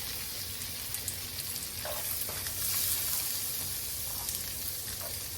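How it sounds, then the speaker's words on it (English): Garlic and onions hit hot oil in a pan and fry with a quiet, steady sizzle, small crackles and stirring clicks scattered through it. "I'm going to throw in my garlic and onions."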